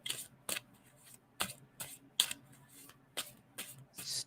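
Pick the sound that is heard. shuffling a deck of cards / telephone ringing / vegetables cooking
shuffling a deck of cards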